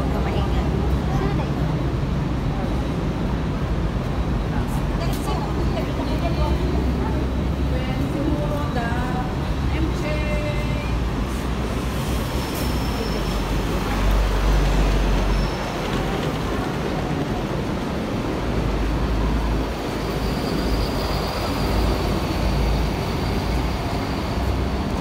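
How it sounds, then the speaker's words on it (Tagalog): Hong Kong bus traffic drones on steadily, with engine rumble, road noise and passing vehicles throughout, while people talk intermittently over it. "Bus traffic."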